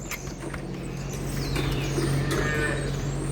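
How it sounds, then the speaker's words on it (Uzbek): A two-day-old male Angus calf moos with a drawn-out, rising call that grows louder midway, heard close over a barn background. "2 kunlik buzoqmanch."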